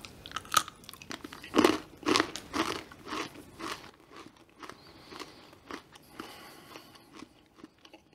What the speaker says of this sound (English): You heard the crunch.